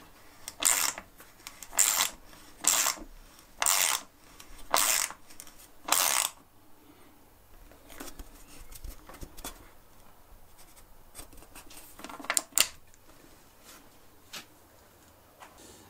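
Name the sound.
screws being screwed into a wooden board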